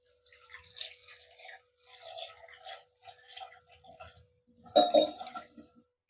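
Water is poured into a pressure cooker holding washed amla (Indian gooseberries), coming in several short splashing, trickling bursts with brief pauses between them and a louder splash near the end.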